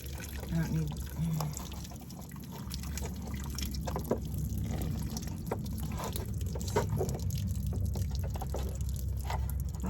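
Water runs from an RV's outdoor faucet, a steady broadband splash and trickle lasting throughout, fairly close, with low hum beneath and no speech over it.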